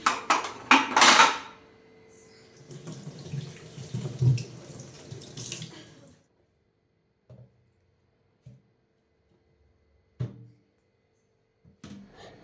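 Fridge trays being scrubbed and washed under a running kitchen tap: a few seconds of gushing water with clattering plastic, then the tap stops and scattered soft knocks of trays being set down follow.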